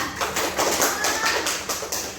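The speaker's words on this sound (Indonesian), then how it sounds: "Tepuk tangan untuk Baba." Classroom applause as students clap for a classmate, a dense steady patter of many hands lasting throughout, fairly loud and close with a faint voice underneath.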